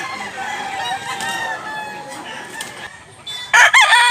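A Sweater Kelso gamecock, a yellow-legged rooster, crows loudly near the end over a background of other crowing and clucking birds in a farm setting.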